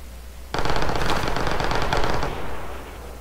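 Pistol gunfire in a video game rattles out as a rapid, loud string of shots lasting about two seconds, then tails off into a fading echo, with no voices.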